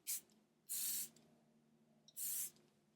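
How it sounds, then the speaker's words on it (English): Three hissing sprays from a Charlotte Tilbury Airbrush Flawless makeup setting spray: one short puff, then two longer bursts, close and crisp against a quiet background. "the Airbrush Flawless Setting Spray"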